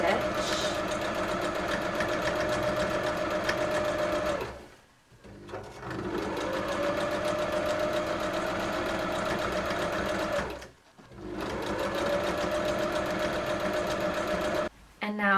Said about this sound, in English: we can stitch it in the middle by pulling the elastic tight, and that will keep the elastic in place and not turn around